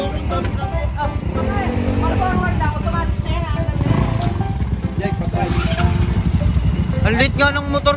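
A motorcycle engine runs with a rumbling, steady idle that rises and falls slightly, close by, while people talk over it.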